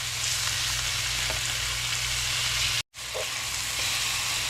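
Pork chops fry in a pan with a steady, dense sizzle, interrupted by a brief dropout of silence before the hiss resumes.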